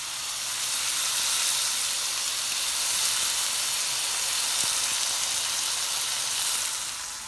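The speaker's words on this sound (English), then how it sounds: "what you hear, is a 2-hot pan of my strip steak" A strip steak sizzles in a very hot pan with butter, a loud, continuous hiss and spatter that holds steady the whole time, with no talking over it.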